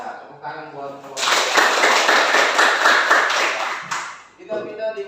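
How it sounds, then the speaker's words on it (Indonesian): A classroom audience claps for a student presenting group, a burst of brisk applause lasting about three seconds, with talking before and after it. "tepuk tangan buat kelompok"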